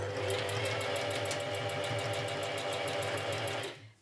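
A sewing machine runs steadily and loudly, stitching short, tight stitches along a shirred ruffle skirt, with a fast even mechanical rhythm for about four seconds before it winds down and stops.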